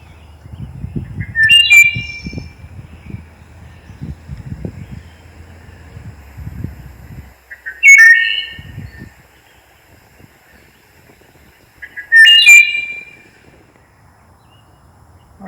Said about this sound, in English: If you're walking in the deep woods and you hear a fluty song, very ethereal, that contains the distinctive phrase "iole," you're probably listening to a wood thrush